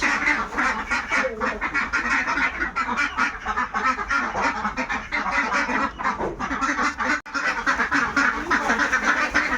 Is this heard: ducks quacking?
yes